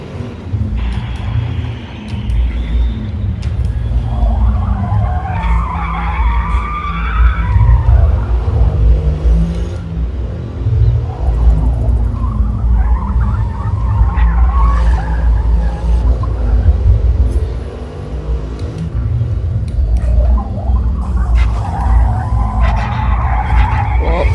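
A racing car in a driving video game howls through a push lap, its engine rising and falling with repeated tyre skids and a low rumble, loud and continuous throughout.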